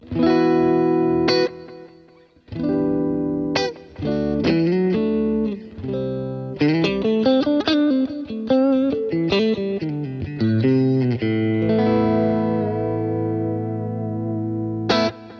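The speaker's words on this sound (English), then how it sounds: "Plate tends to be a brighter sounding reverb" Electric guitar notes and chords ring out through a bright, shimmering plate reverb on a Boss GX-100, with sustained tails between phrases, played alone and fairly loud.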